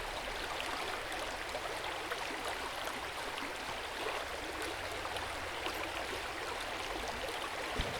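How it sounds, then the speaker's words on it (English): A stream flows over smooth stones, a soft, continuous broadband babble that stays even and faint without any voices. "You can see its clear water moving effortlessly over smooth stones."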